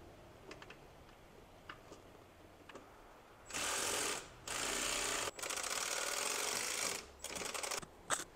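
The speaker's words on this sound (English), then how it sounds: "Until I get these screws started." Power screwdriver driving screws to fit a new crankcase breather on a BMW E46 330i, heard as several sustained whirring bursts of a few seconds each with short pauses between, close and loud.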